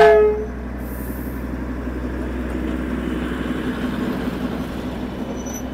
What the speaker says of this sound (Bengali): টয় ট্রেন কিন্তু এই বাতাসিয়া লুপ হয়ে চলে গেল